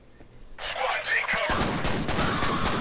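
Dense gunfire from the shooter game F.E.A.R., rapid automatic bursts and impacts that swell in and then keep going almost continuously, close and loud, with the player's voice speaking over the first part.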